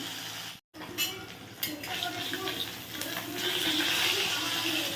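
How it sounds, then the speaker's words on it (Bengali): Fish rubbed with salt and turmeric fries in a pan with a continuous close sizzle that swells toward the end, punctuated by a few light utensil clinks and one brief moment of silence. "মাছটা এবার ভালো করে ভেজে নিই"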